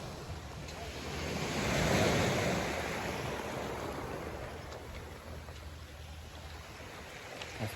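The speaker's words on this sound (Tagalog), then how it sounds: "Sa beach na malalaki yung bato." Waves wash onto a rocky beach with large stones, a surge building and then fading into a continuous roar, with wind buffeting the microphone.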